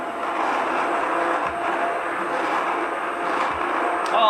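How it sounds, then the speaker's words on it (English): An immersion blender whirs steadily as it mixes ambrosia salad, a continuous close motor drone with little variation over a few seconds. "If you've never used an immersion blender before,"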